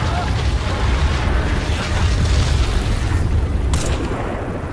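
A heavy explosion in the Crysis 3 video game produces a dense, sustained rumbling roar that fills the whole short stretch at loud volume.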